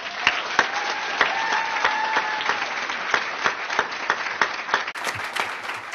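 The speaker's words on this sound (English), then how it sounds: "Give a big round of applause for Senator Patty Cooter." An audience at a bill-signing event raising the smoking age to 21 applauds Senator Patty Cooter with dense, sustained clapping and sharp individual claps standing out, steady throughout and brightening near the end.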